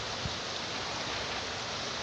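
River in Bicol Natural Park, a faint, steady rush of flowing water with a soft continuous hiss and no distinct splashes, heard alone.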